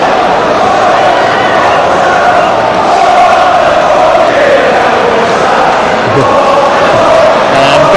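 A large football crowd at Celtic Park roars and cheers David Beckham during a testimonial match, a dense continuous wall of voices with rising shouts, loud and sustained throughout.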